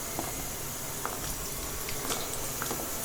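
Peeled small onions fry in hot oil in a pan, giving a dense, even hiss of sizzling with faint scattered crackles, close and unbroken throughout.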